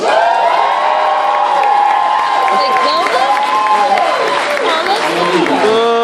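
A loud convention panel crowd at New York Comic Con 2014 cheers and whoops, with shouting voices rising and falling over applause, lively and sustained.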